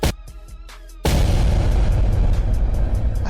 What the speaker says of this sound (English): I hate when that happens to my explosion, the little half explosion.